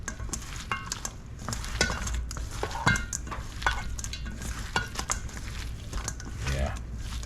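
Garlic being stirred into a shrimp sauce in a sizzling pan, with a utensil scraping and mixing steadily through a low frying hiss over several seconds.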